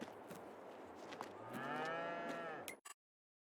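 A single drawn-out cow moo from a herd of about twenty cattle on a winter North Dakota cattle ranch in Farming Simulator 22. The moo sounds faint and alone, then cuts off abruptly.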